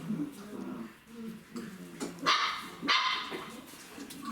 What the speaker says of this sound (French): la chienne que vous entendez glousser